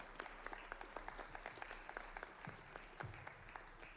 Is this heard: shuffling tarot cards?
no